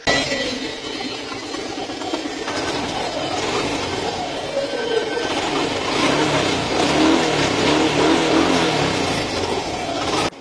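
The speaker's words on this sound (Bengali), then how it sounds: "তো আজকে আমি বাইকের সাউন্ডটা আপনাদেরকে শোনাই দিতে চাই।" A Suzuki Gixxer SF motorcycle engine runs with a loud, steady, continuous drone that stays even for about ten seconds with no talking over it.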